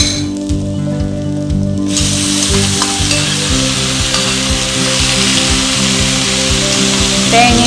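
Chicken sizzles steadily as it fries with sautéed onions in a pan for chicken thoran, with a constant loud crackle and occasional stirring scrapes, close up and without talk.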